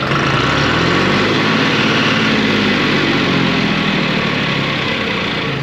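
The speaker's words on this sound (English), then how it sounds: "I can hear it whining again, like it's surging" A tractor engine running steadily and loud up close, a continuous droning hum with a faint whine above it and only slight wavering in level, no talk.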